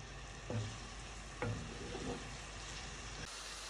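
Carrots and cabbage fry in a pan for a pirozhki filling, giving a steady close sizzle broken by a few soft stirring knocks.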